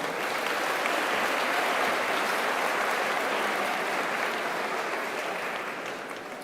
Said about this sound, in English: So please give these young ladies a round of applause